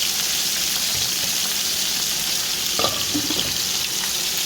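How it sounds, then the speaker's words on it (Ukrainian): Fish frying in a pan gives a steady, close hiss and sizzle throughout, with a brief clatter of stirring or utensil contact partway through. "Досмажуємо рибку."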